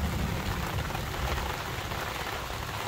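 Rain falls continuously, a thick, uniform patter and hiss of drops striking nearby surfaces, heard on its own with no talking.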